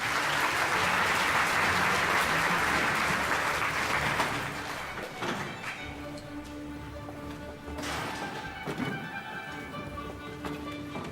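Hand clapping to switch off a clap-activated light, a dense burst of claps filling the first few seconds, then fading into a quieter room with scattered taps and sounds.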